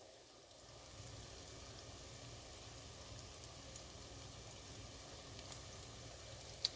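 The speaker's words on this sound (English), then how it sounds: "this is the first time I'm trying it, like frying it, you know, in the deep fryer" Faint, steady sizzling hiss of okra deep frying in hot oil in a deep fryer, continuous and quiet, with no one speaking.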